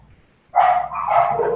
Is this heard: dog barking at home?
yes